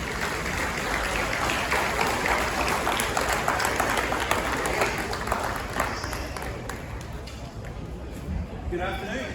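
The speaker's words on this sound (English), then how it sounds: "let's give a round of applause for Chef Wellington and Olivia Machado" A round of applause for two chefs at a beef Wellington cooking event, dense clapping from a crowd that carries through most of the stretch and thins toward the end, mixed with background voices.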